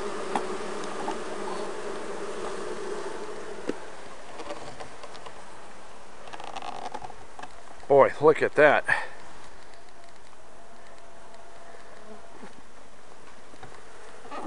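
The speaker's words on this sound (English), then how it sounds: "Lots and lots of bees on that inner cover." Honey bees swarm around an open hive with a heavily propolised inner cover, a steady close buzzing drone throughout, with a brief louder burst of nearby wingbeats midway and someone talking over it.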